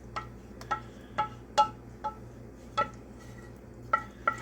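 No-bake bread pudding stirred in a pot, a spoon clinking and scraping against the metal in irregular taps, fairly faint and close, with no talking.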